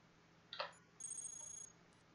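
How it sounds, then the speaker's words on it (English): A brief electronic alarm in the robot game Cogmind: a short chirp, then a steady high synthetic tone held for under a second, faint and alone over a quiet background. "An alarm sounds."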